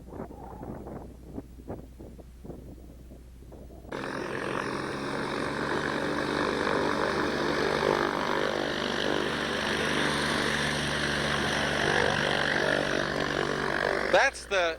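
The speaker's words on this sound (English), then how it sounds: "That's the jump plane" A propeller-driven jump plane for skydivers drones steadily overhead near an ultralight airfield, the engine sound cutting in loudly after a few seconds of quieter background and holding strong, with someone speaking early on.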